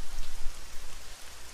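Heavy rain pours steadily during a thunderstorm, a dense, loud hiss of drops on surfaces that fills the whole stretch with no voices.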